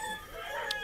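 A gamefowl rooster crows briefly and faintly in the distance, a short, thin call heard against quiet background noise.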